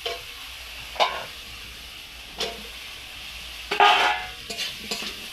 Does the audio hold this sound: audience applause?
no